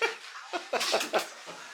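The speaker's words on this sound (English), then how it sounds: "oh no, it isn't the wild dog in here" A dog in a garage gives a few short, close whimpering and snuffling sounds in quick bursts, fairly quiet, with no clear speech.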